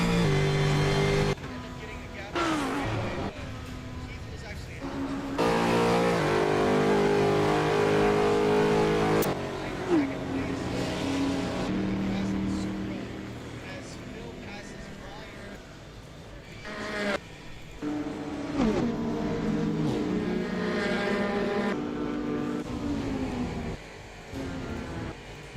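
Racing cars, including a Supra, buzzing around a video game track, engine tones rising and shifting as cars accelerate and pass, fairly faint and continuous with a few abrupt cuts.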